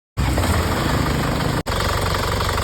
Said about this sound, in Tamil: வண்டி இன்ஜின் சவுண்டை கேளுங்க.